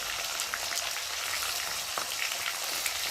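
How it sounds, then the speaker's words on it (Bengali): Spice paste of chopped tomato, chilli, salt and turmeric frying with potatoes in a pan for Bengali cauliflower curry, a steady, close, dense sizzle with small crackles throughout. "দিয়ে মশলাটা ভালোভাবে আলুর সাথে কষিয়ে নেব।"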